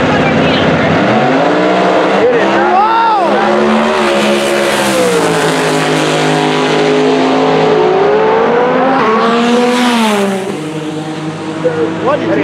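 Nissan GT-R launching at a drag race, loud and close, with the engine revving hard, swooping up and down in pitch, and some tire squeal, while a voice talks over it before the roar fades near the end.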